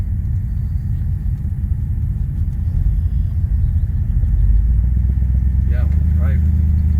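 A 1957 Ford Fairlane 500 engine running nearby: a steady, deep low rumble that swells louder partway through and holds there.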